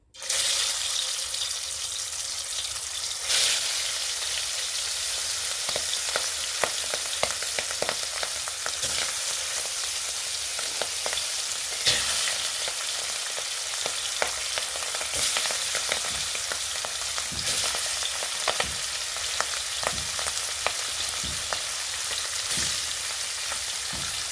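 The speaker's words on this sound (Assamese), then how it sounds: "মোৰ তেলখিনি গৰম হৈ গৈছে আৰু মই মাছখিনি নিমখ হালধি সানি লৈছোঁ আৰু এতিয়া মই মাছখিনি এড কৰিম" Fish rubbed with salt and turmeric fries steadily in hot mustard oil, with a dense, continuous sizzle and crackle. Occasional sharper pops and spatters rise above it, and no one speaks.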